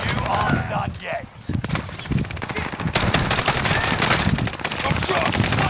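Rapid machine-gun bursts and scattered gunshots fill a shooter video game, loud and dense throughout, with voices talking over the shooting.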